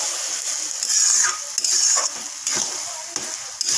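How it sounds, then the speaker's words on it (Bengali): A spoon stirs pilau rice in a hot pot on a gas stove, several scraping strokes over a steady sizzle, close and clear, with no talking. "আবার নেড়ে দিব"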